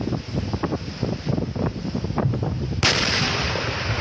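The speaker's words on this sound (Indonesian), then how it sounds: "Ini merupakan ledakan yang pertama" Ammunition explosions at a military depot in Garut, heard from a distance over surrounding plantation land: a string of low, rumbling booms and thuds under strong wind buffeting, ending in a sudden broadband roar.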